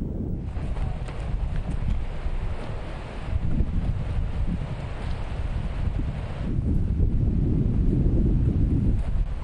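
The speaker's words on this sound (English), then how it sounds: "On this hot and windy beach," Wind blows across a hot, open beach in a steady, roaring rush that buffets the microphone, swelling in strength toward the end, with no voices.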